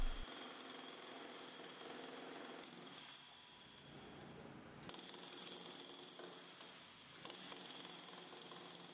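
A jackhammer breaking concrete pounds away in rapid, continuous bursts, harsh and close, briefly easing off midway before resuming at full force.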